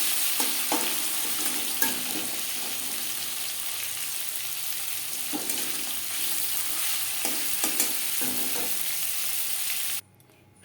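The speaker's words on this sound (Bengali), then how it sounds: "পরের মাছ ও মাছের কাটা একইভাবে ভেজে নেব।" Pieces of fish and fish bones fry in hot oil for a Bengali-style fish curry, giving a steady close sizzle with occasional scraping stirs before the sound cuts off.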